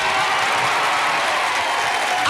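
A studio audience at a 1976 James Brown Christmas TV show applauds in a loud, dense, continuous wash of clapping with no break.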